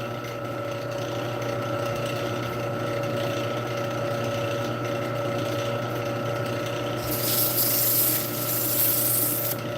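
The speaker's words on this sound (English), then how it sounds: "Sand this up." Continuous sanding of a wood piece, a steady close rasping rub that holds its level throughout and grows slightly brighter and harsher near the end, with no talk.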